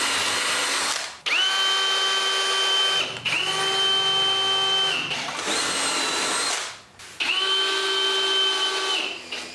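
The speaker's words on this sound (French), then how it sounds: "je visse des vis en acier inoxydable" A power drill drives stainless steel screws into a cedar patio table in three or four loud, close bursts of whining motor, each winding down briefly before the next screw.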